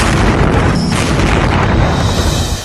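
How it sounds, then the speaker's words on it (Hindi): Loud, dense rumbling booms and bursts from street fighting in Odesa, with heavy continuous blast noise throughout. "कमरों से गोलियां दागी जा रही हैं।"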